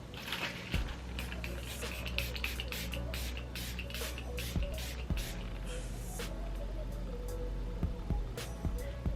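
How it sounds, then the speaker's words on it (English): Repeated short hissing bursts of a makeup setting spray bottle misting, close and fairly loud, with soft handling noises and a low background rumble. "Now we're gonna go in with the setting sprays."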